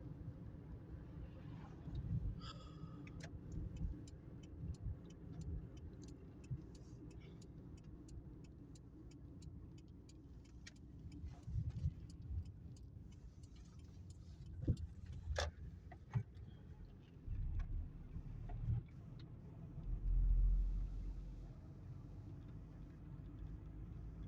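Car driving along a rural village road after turning off the highway, a steady low engine and road rumble throughout with scattered ticks and bumps, recorded from inside the vehicle.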